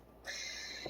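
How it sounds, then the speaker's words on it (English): A cat in heat gives a single drawn-out mew in the background, faint and hoarse, lasting most of a second over quiet room tone. "If you hear my cat mewing in the background, it is Milo."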